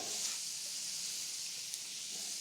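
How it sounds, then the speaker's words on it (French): Vegetables and onions sauté in a hot pan, giving a steady, soft sizzling hiss that holds evenly throughout at moderate distance, with no voices. "Je vais les faire sauter avec les oignons"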